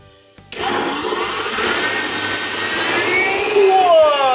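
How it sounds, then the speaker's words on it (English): A kitchen blender whirs into action mixing pizza ingredients, starting abruptly after a brief pause and holding a loud, steady high-pitched roar that rises slightly toward the end. "So do we mix it here? Yes, with a blender."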